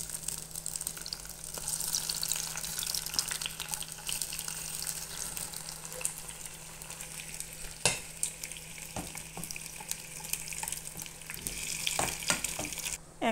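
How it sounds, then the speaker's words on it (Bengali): Garlic and tomato fry gently in a pan, a steady soft sizzle with occasional stirring clicks and scrapes against the metal, close up and with no one talking. "রসুন দিয়ে একটু হালকা একটু ভেজে নিব, একদম পোড়া পোড়া না। দিয়ে দিলাম একটা টমেটো।"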